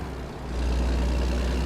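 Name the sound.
truck engine running in a truck driving video game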